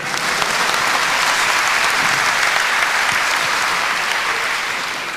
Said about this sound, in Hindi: जो तालियां नहीं बजाएंगे उन्हें बुरे बुरे सपने आएंगे।